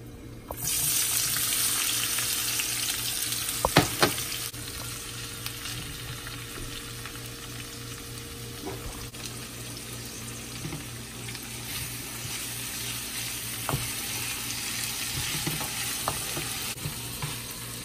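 Scallions, peppers and tomatoes fry in a pan with a steady, close sizzle, broken by a few sharp clinks and stirring scrapes, with no voices.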